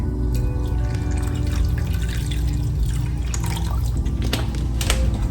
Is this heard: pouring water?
yes